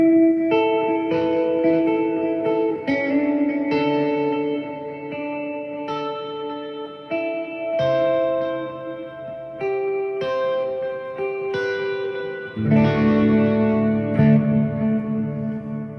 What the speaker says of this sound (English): It's just an exaggerated reverb.